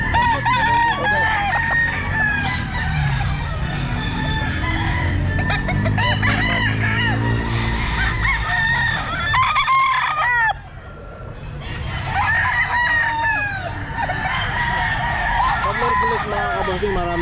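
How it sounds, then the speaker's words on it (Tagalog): Chickens and roosters at the Grotto pet market crow and cluck over one another, with several loud, overlapping crows and a steady murmur of people talking in the background throughout. "marami din ng manok dito sa grotto"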